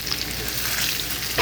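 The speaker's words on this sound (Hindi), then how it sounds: "मुसलसल चलाते जाना है" Kadhi mixture with cumin cooks in a pot under constant stirring, a close steady sizzle with soft scraping and a brief louder knock at the end and no speech.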